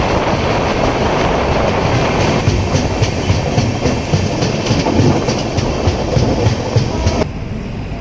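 A local train rumbles steadily through Kalapathra station in Punjab, loud and close, with rhythmic wheel clatter and rail noise that drops slightly near the end.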